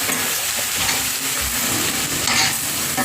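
Chicken curry with ground pepper is stirred in a hot pan, giving a steady, loud sizzle with scraping stir sounds mixed in. No one speaks.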